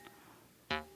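A jaw harp twanger is pulled back and released, giving one brief faint twang near the start, then one louder, buzzy, ringing twang that decays over a few tenths of a second.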